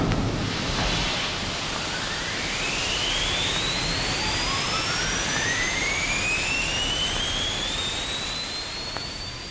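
Rocket engine firing after a countdown, a loud continuous roaring rush with a rising whistling tone sweeping upward, steady and alone throughout.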